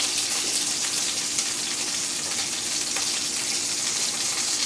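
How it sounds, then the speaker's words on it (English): Steady, loud sizzling and crackling of steak searing in a hot pan, continuous throughout with no talking. "right here, you hear that sizzle. You hear everything that's going on in there."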